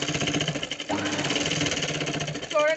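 A sewing machine stitches fabric with a fast, steady mechanical chatter that runs throughout, loud and close, with a brief higher whine near the end.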